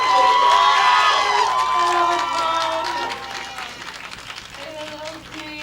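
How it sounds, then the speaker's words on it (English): A room full of friends at an awards event breaks into loud applause and cheering, dense clapping and shouts that gradually fade to scattered claps and voices. "And another round of applause"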